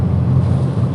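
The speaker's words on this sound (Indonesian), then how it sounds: "Yang lebih terdengar itu suara mesinnya" Steady low engine drone inside the cabin of a 1993 Toyota Corolla 1.6 SE.G while driving, a continuous muffled hum with no talk.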